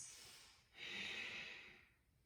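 Deep Ujjayi breathing during a yoga flow: one soft inhale, then a longer, louder throaty exhale with an ocean-like hiss, close and alone.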